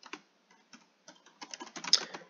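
Short bursts of computer keyboard typing, crisp close clicks arriving in scattered groups that grow quicker and denser toward the end, with no voices.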